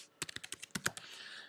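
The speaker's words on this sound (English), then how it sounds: "you type your password in" Fingers type a password on a computer keyboard: a quick run of about ten light, crisp key clicks in uneven rhythm, close and quiet, ending in a faint hiss.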